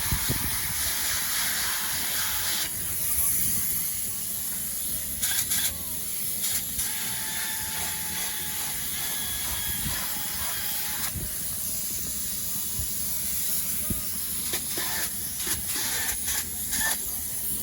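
Spray foam insulation is sprayed onto the rafters of a log cabin build, heard as a loud, continuous hiss of the spray gun that cuts off and restarts in short bursts, close by.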